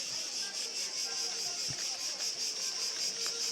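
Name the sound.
cricket chirping in Athens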